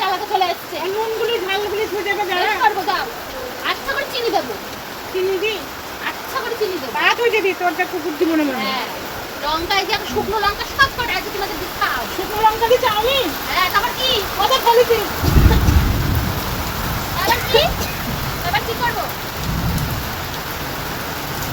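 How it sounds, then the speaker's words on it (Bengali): Steady rain falls outside, a constant close hiss with a deep low rumble swelling near the end, while people talk over it. "সুন্দর বাইরে বৃষ্টি পড়ছে"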